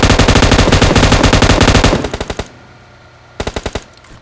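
Automatic weapon fire in the mobile game PUBG Mobile: a long, loud, rapid burst, then a short trailing burst, a pause, and another short rapid burst, close and dominant with no talking over it.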